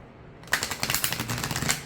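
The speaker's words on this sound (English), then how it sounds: "let's see how this deck shuffles" After a brief quiet moment, a stiff oracle card deck is riffled in a quick burst of rapid snapping flutters, close and crisp.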